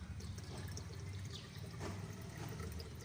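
Water pours steadily into a truck engine with a continuous splashing, gurgling flow, fairly close, with a low engine-like hum underneath and no talking.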